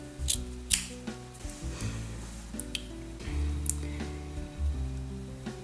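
Scissors cutting embroidery backing material, a series of soft, close snips and crisp clicks at irregular intervals against a quiet indoor background.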